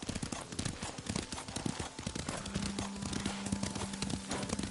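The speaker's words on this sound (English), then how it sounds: "Lord Sakai taught me to ride a horse" Horse hooves clip-clop in a steady rhythmic gait as a rider travels in the Ghost of Tsushima video game, close and continuous over a low background hum.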